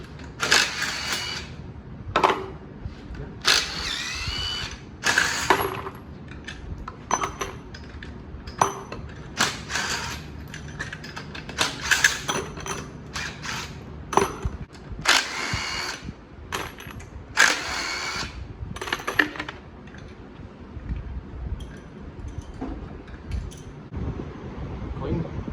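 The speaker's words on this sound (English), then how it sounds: "I'll go ahead and start getting these rocker arms off." Rocker arms being removed from a 6.6 L8T Gen V LT engine: irregular bursts of metallic clicking and ratcheting tool sounds with short pauses, close by, some faint background noise between.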